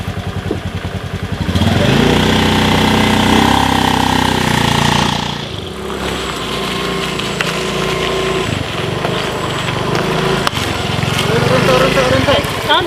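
A motorcycle engine idles and revs unevenly close by, a steady mechanical drone running throughout while people talk over it.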